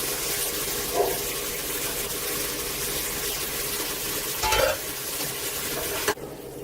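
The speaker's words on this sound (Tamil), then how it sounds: "இப்போ கீரையை ஆட் பண்ணி அந்த எண்ணெயிலே வதக்கிக்குவோம்." Fenugreek leaves hit hot oil with tomato in a pan and are sautéed, giving a soft continuous sizzle with a couple of brief louder stirring scrapes, before the sound cuts off abruptly near the end.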